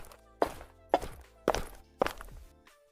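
Four evenly spaced character footsteps from a video game, each a crisp thudding step, close and clean with no other sound.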